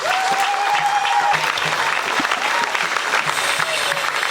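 A congregation at a Catholic thanksgiving mass breaks into sustained applause, a dense continuous wash of clapping from many hands filling the church, with a voice faintly audible at the start.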